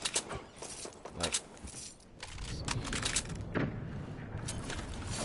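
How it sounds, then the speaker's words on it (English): Gunfire in a multiplayer shooter video game, a few sharp bursts early on then a denser, steadier rattle of shots continuing under the mix, fairly loud throughout. "you can hear those gunshots"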